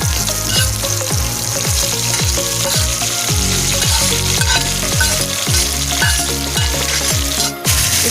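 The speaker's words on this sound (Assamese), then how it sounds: "এতিয়া মই পিঁয়াজটো 1 মিনিট ভাজি লৈছোঁ।" Three large sliced onions fry in oil with a bay leaf for dhaba-style chicken curry, a loud continuous sizzle broken by regular scraping strokes of a spoon against the pan.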